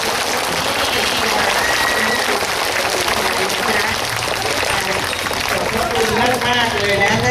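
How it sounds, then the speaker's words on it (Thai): Loud, continuous clapping from a crowd at a Thai temple celebration, rising with cheers and a voice over it, packed and sustained from start to finish. "ขอเสียงปรบมือสักหนึ่ง"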